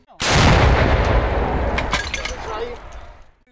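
A single loud blast of a Ukrainian military artillery gun firing near Vuhledar, with a sharp crack that rolls into a long, decaying rumble and debris-like rattle.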